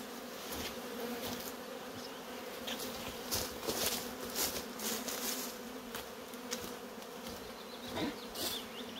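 Honey bees buzz in a dense, continuous drone around an opened beehive whose colony had gone untouched for about two years, with brief louder swells as individual bees pass close.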